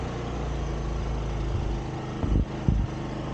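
Honda ADV 175 scooter engine running with a dragging clutch, a steady low rumble with vibration throughout, plus a couple of brief louder surges near the end.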